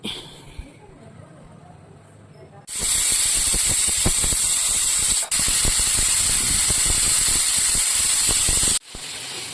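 A pressure cooker vents a loud, steady, hissing whistle for about six seconds while chicken donne pulao cooks. A brief dip interrupts it, and it cuts off abruptly after a quieter kitchen lead-in.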